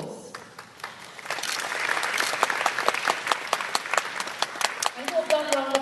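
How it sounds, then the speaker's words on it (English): A crowd breaks into applause that swells and continues steadily, many hands clapping at once, following a brief moment of speech. "Let us give them a round of applause."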